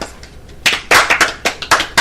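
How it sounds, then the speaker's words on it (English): A handful of people clap in a few uneven, close bursts, loud and sharp with brief pauses between them, with no talking. "India, we need a clap for India."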